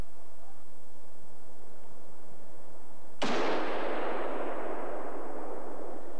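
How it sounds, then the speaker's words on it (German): A single sharp hunting rifle shot cracks out loud and close after a quiet forest stretch, its blast trailing off in a long fading echo. "Ihr erster und einziger Schuss nach 3 Stunden Jagd"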